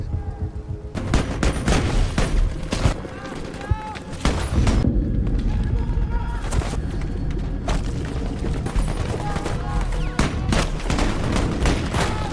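Repeated bursts of gunfire and booming blasts fill a chaotic battle scene, with voices speaking over the shooting.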